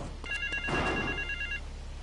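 Payphone in South Belleville Park in the video game GTA III ringing with a bright electronic trill, one sustained ring burst heard up close over a low background hum.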